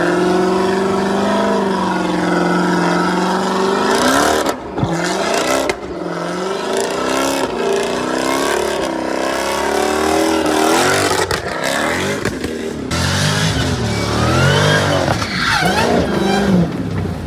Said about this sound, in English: Why that supercharger whine is so loud?